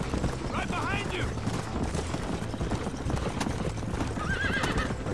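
Horses gallop with a rapid, steady clip-clop in Red Dead Redemption, a couple of whinnies cutting through near the start and end over a dense, loud game soundscape.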